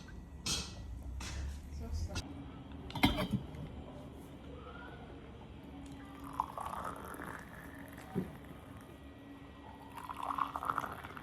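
Tea poured into a glass in a quiet indoor room: a few soft trickling, splashing pours and light glass clinks, faint and close, with brief talk between them.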